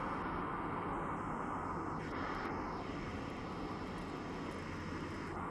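Airdrop airplane in Escape from Tarkov flying overhead, a steady droning propeller-engine roar that fills the scene continuously, loud and uninterrupted, with no talk over it.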